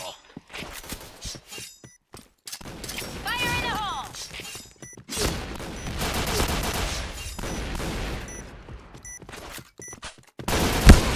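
Bursts of rapid gunfire from the Point Blank video game on the remodeled Midtown map, sharp repeated shots in clusters with clattering impacts, heavy through the middle and ending in a loud close shot; a voice speaks briefly between volleys.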